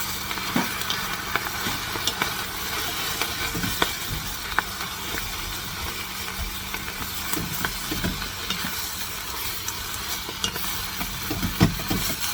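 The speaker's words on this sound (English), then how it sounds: "Now you stir it around and cook it." A paprika mixture sizzles steadily in a pan while it is stirred, with a continuous frying hiss broken by scattered scraping clicks from the utensil.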